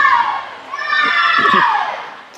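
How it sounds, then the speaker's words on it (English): A crowd cheers and shouts steadily in the distance at a swimming meet, swelling slightly toward the middle, with a commentator's voice faintly overlapping. "The cheering for Barden has gotten louder as she's going to bring it home here"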